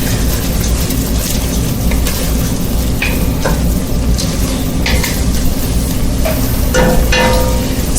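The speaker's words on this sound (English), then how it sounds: "we're going to let this reduce until there's no wine left" Wine reducing in a risotto pan over medium heat, a dense steady bubbling sizzle close by, with scattered light clinks of a utensil against the pan throughout.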